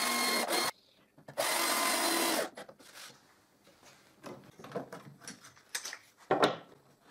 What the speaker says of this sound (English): I get the clamp out of the way and I drive the third screw